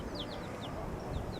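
Chickens cluck and chirp softly in short repeated calls, a few birds close by on a windy Key West evening, with steady wind rumble underneath.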